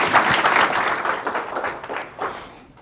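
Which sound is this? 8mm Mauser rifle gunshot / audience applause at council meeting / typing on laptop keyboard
audience applause at council meeting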